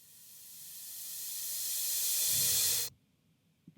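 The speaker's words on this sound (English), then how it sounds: "I'll just type in rev for reverse cymbal. I want this reverse cymbal." Reverse cymbal sample in Serato Studio: a bright hiss swelling steadily louder over nearly three seconds, then cutting off abruptly into near silence, with a few faint clicks after.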